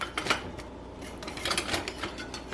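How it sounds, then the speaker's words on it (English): A spatula scraping and tossing seasoned vegetables in a pan, giving irregular metallic clinks and scrapes in quick bursts, close and moderately loud, with no speech. "a spatula and I'm just gonna toss all of this, get all the seasonings spread around"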